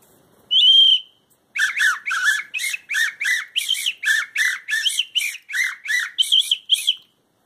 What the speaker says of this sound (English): this is a whistle I bought in Brazil. And the cool thing about this whistle is it has three holes. And so it makes different sounds.